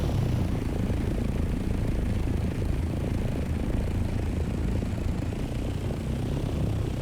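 Steady, continuous engine drone of an aircraft flyby in the Dune: Awakening game, a broad rumbling whir holding an even level throughout with no voices.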